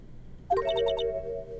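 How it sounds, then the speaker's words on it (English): A short melodic phone ringtone from the Phoenix Wright Ace Attorney video game, the children's TV show theme, plays as a bright tonal jingle with a quick run of notes followed by a sustained chime, alone. "I know that song your phone plays when it rings."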